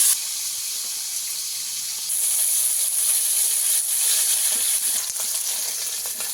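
Kuche fish (swamp eel) fry in hot oil in a pan with a steady, bright hiss that grows louder after a couple of seconds and continues alone.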